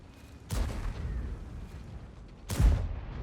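Two heavy tank cannon blasts from a Gryphon tank in a video game boom about two seconds apart, each with a sharp attack and rumbling tail over a low background.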